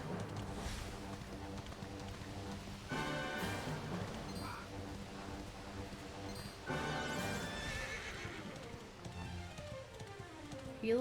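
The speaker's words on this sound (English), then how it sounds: "So you can hold right trigger to make the horse gallop." A horse in the role-playing game Dragon Quest XI gallops with steady, loud hoofbeats that run throughout. Whinnies and neighs break in now and then over a faint airy background.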